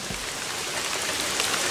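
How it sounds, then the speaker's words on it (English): Steady rain falls outside in autumn, a dense, even patter of drops that stays constant and fairly loud throughout, with no voices. "We've had plenty of rain. Stop flipping raining!"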